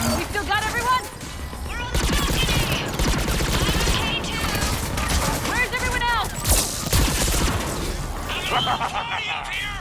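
Rapid gunfire and bursts of shooting in the video game Mass Effect 3, dense and continuous for about ten seconds, with voices talking over the battle.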